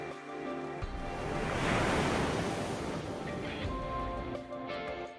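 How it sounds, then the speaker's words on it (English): Ocean waves roll in and break on a shore in a video game, a swelling wash of surf that peaks and recedes, mixed with wind noise and heard alone. "Are those waves? Oh, right. There was an ocean nearby."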